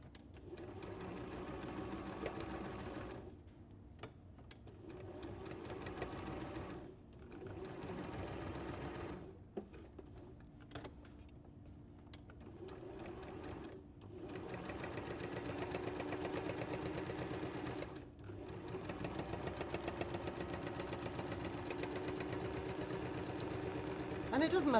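A sewing machine stitches a unicorn applique onto fabric, running in steady bursts of fast mechanical whirring broken by short pauses as the fabric is turned, with a person talking over it.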